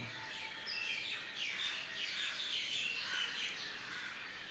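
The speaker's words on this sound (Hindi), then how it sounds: "ये पक्षियों का चहचहाना" Birdsong at dawn: many small birds chirp and tweet in a dense, steady chorus at moderate distance, with no voices present.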